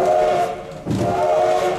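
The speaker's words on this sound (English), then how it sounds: "These little whistles you're hearing are for our running brake test." A steam locomotive whistle on an 1880s-style excursion train near Hill City, South Dakota, sounds short toots for a running brake test, a steady tonal blast broken by a brief gap over rumbling train noise.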